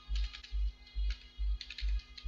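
Fingers type quickly on a computer keyboard while entering text in Excel, producing a regular run of soft close clicks in short clusters about twice a second.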